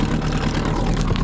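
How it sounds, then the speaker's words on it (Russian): A two-stroke boat outboard motor runs steadily at about 29-30 speed with a constant buzzing drone, close and fairly loud, with rushing noise throughout. "Мотор работает неплохо."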